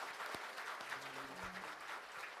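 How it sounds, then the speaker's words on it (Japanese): Audience applause at a public forum on ending nuclear power and promoting renewable energy, a steady even patter of many hands clapping at moderate level throughout, with a few low tonal hums underneath. "どうぞ皆様、今一度大きな拍手をお願い申し上げます。"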